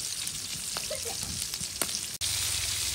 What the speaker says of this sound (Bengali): এই যে বন্ধুরা দেখেন আমাদের মাছ ভাজা হয়ে গেছে